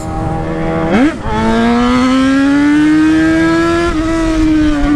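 A motorcycle engine revs hard close by, its whine climbing in pitch through a quick gear change and then rising steadily in one long acceleration before easing off near the end.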